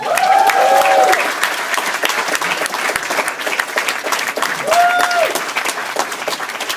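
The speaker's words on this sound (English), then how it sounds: "I need the loudest cheer from all of you" A theatre audience at a comedy monologue show claps loudly and steadily throughout, with a crowd murmur and a couple of brief whoops rising over the applause.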